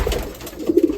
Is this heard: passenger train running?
no